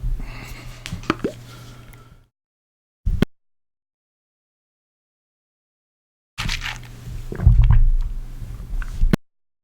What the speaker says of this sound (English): now you probably heard me washing water around my mouth